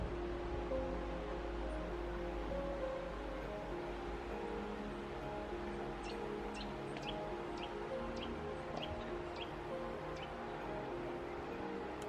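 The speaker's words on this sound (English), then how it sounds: "immediately you hear that river just down below." The Warleggan River runs below a barn in rural Cornwall, a soft steady distant rush of flowing water heard with faint bird chirps over it, quiet and continuous with no talking.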